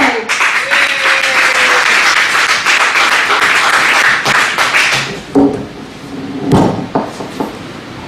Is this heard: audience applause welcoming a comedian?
yes